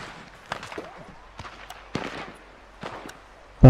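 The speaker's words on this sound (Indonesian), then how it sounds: "Baku tembak ini namanya." Gunfight in the video game Red Dead Redemption 2: scattered sharp gunshots cracking every half second or so, a few echoing tails between them, with a loud bang at the end and faint voice in the background.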